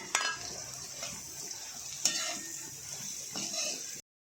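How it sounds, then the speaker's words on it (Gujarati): Crumbled millet flatbread is stirred into a pan with garlic, chillies and curry leaves: a soft sizzle with scraping and a couple of sharp utensil clinks against the pan, close by. "હવે આપણે જે રોટલા કટકી કર્યા છે તે નાખી દઈશું। આ રીતે તેને મિક્સ કરી લઈશું।"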